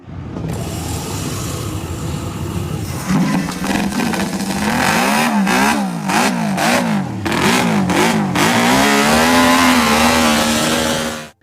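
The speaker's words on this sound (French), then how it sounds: "on voit déjà le vieux Giacomo Agostini démarrer l'une de ses motos. Écoutez le son qu'il produit." An MV Agusta racing motorcycle engine fires up and revs hard several times in sharp bursts, loud and close, then settles into a steady high idle.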